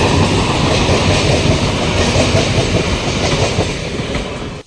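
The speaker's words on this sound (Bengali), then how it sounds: "আস্তে আস্তে ট্রেনও চলে এসেছে" A train rolls into a station near Ranaghat, its loud, close rumble and clickety-clack of wheels sounding continuously before cutting off abruptly at the end.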